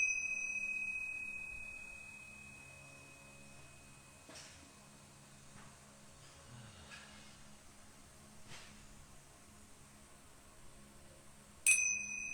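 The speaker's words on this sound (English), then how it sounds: "releasing through the mouth with each bell" Meditation bell struck during guided breathing practice, a few sparse bright rings spread across a quiet room with a low hum of air conditioning, one louder strike near the end.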